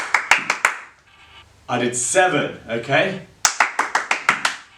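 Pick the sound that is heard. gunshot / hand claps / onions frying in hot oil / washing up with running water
hand claps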